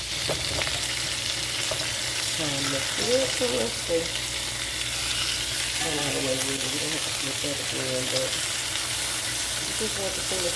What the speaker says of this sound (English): We're gonna cook up this bacon and then I'll be back.